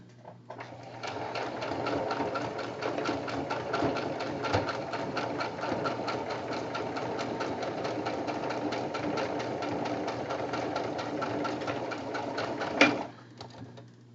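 A sewing machine stitches the closure on a small leaf-shaped pillow made from recycled fabric. It runs steadily and close for about twelve seconds, then stops, with faint background bird cooing.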